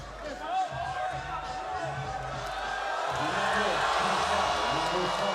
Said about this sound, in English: And the crowd making their presence felt here.